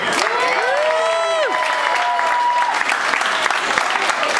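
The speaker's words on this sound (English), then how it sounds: "let's hear it for Alfie O'Shea" An audience at a St. Patrick's Day party claps steadily and warmly throughout, with a voice briefly rising above the applause at the start.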